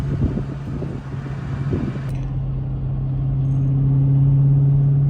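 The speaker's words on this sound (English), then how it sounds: "And you do get a little bit of drone in the car, but nothing bad" A 2023 Chrysler 300C sedan cruising at about 45 mph in track mode gives off a steady low engine drone, a constant hum under road rumble and wind noise inside the cabin, with no one speaking.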